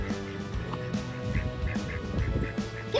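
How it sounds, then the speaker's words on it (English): Video game duck quacks and honks repeatedly over a busy layered game soundtrack, short nasal calls recurring every half second or so, fairly close and moderately loud. "Got robbed by a duck."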